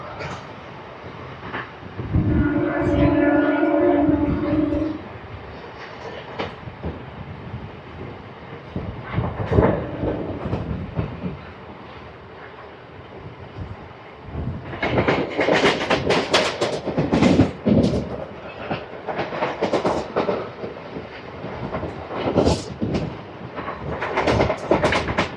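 A MEMU suburban train runs past Vepagunta railway station without stopping. Wheels clatter and rumble in uneven bursts, with a short tonal horn-like blast early on and heavier rattling later, heard from inside at moderate distance.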